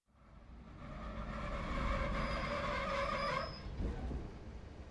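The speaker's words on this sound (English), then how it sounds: "I'm on the train." Inside a moving train carriage, a steady broadband rumble of wheels on rails with a ringing tonal whine holds for several seconds, then shifts to a rougher clatter near the end; no voices.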